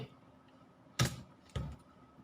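Keys pressed on a computer keyboard while typing a command, two distinct close clicks about half a second apart over a quiet room background.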